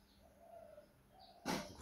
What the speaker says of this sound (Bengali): ঘুঘু পাখি ডাকছে।